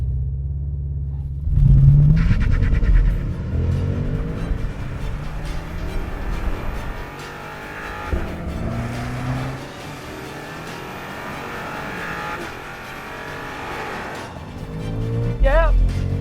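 A brand-new BMW M5 on an abandoned road accelerating hard under launch control, its engine roar rising through the gears, loud and close, with someone talking over parts of it.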